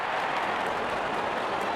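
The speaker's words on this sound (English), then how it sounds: "Openers walking in and the crowd cheering in anticipation." Crowd at a factory tournament cricket match cheering and applauding as the openers walk out, a steady dense wash of clapping and cheers held at an even level throughout, with no talk above it.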